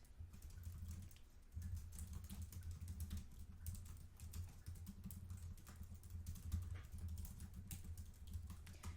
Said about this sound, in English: So I can easily type something in